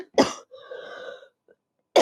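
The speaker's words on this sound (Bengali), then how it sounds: "কাশতে কাশতে জীবন বের হয়ে যাচ্ছে।" During an English class, a teacher gives a harsh, close cough, then a brief wheezy, throaty sound follows, and a second sharp cough bursts out at the end.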